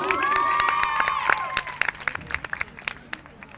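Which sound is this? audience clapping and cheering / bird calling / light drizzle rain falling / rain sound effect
audience clapping and cheering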